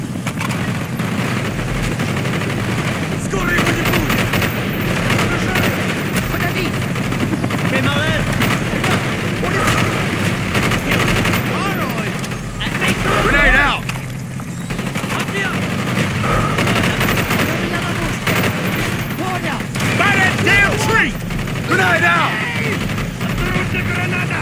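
Sustained, dense automatic gunfire from a Call of Duty Black Ops battle rattles on without pause, with bursts and booming shots layered into a loud, continuous wall of combat noise.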